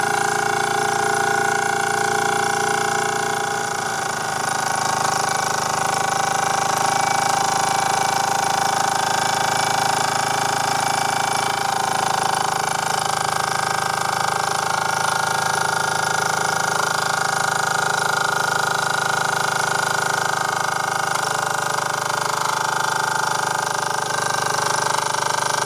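A KMV Lokomobile stationary engine runs steadily and loudly close by, a continuous rapid mechanical hammering with sustained tonal whine, alone without talk.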